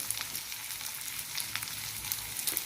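Spices for a bitter melon stir-fry sizzle in a hot pan, a steady crackling fry with small spatters and occasional stirring scrapes, close and unbroken.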